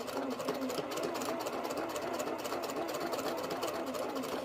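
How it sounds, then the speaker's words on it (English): A straight stitch sewing machine with a quarter-inch foot stitches quilt fabric in a fast, even, continuous mechanical chatter, close and loud, with no pauses and no talking. "which is my 1/4 inch sewing foot on my straight stitch machine"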